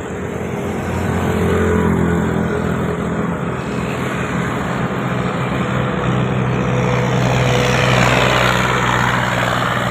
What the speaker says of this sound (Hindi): एक मेरे मोटरसाइकिल वालू आ रहे हैं।